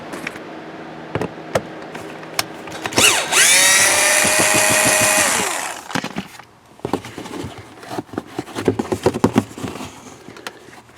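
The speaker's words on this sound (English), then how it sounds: "Looks like I got to remove this attaching screw here and pull this crash pad out." A power drill removes an attaching screw from the dashboard crash pad of a Hyundai Sonata, giving one loud whirring burst of a few seconds amid scattered clicks, taps and rattles of plastic trim.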